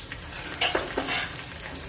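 Green chillies roast in hot oil for a Gujarati tempering, a close, steady sizzle with a few brief stirring scrapes.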